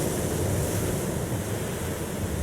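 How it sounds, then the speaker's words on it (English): Ocean waves in the 2010 film Inception surge in a loud, continuous roar of rushing surf with a deep rumble and windy hiss, no voices over it. "Ocean waves."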